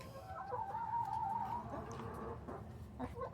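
Backyard chickens cluck and murmur steadily inside a coop, a soft, continuous flock chatter with a few sharper calls near the end.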